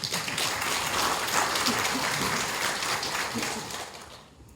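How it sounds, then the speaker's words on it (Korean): Steady crowd applause fills the whole stretch, a dense wash of many hands clapping at once at a Saemaul workshop lecture in Pocheon, South Korea, fairly loud before tapering off near the end. "박수 한번 쳐주십시오"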